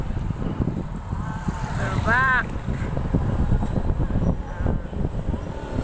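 Steady wind roars across the microphone in a low, continuous rumble, with people talking over it and a brief whistling tone in the middle, in Virac, Catanduanes, Philippines.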